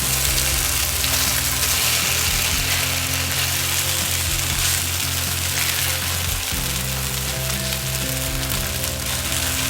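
An oobleck pancake of cornstarch and water sizzles loudly as it cooks in a pan, a dense, continuous frying hiss close up with a low background hum running underneath throughout.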